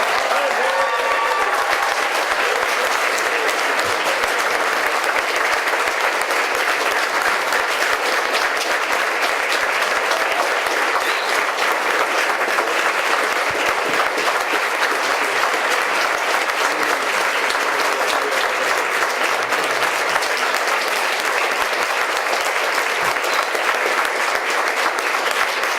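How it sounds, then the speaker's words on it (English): Town hall audience breaks into long, dense applause, steady and loud for the whole stretch, with faint voices occasionally audible beneath the clapping. "Give them a round of applause."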